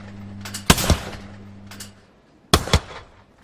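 Gunshots ring out at a shooting event in the London 2012 video game: one sharp report with a quick echo, a pause, then another double crack, loud and close over a low hum.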